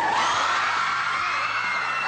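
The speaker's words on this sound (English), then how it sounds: "Judging from all the high-pitched screams, it's New Moon's Robert Pattinson." A crowd of fans screams high-pitched and continuous as actor Robert Pattinson arrives in Tokyo, a dense, loud wall of shrieks with no talking over it.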